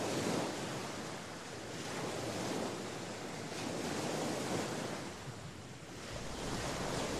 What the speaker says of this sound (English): That was a long walk along the Pacific Ocean beach.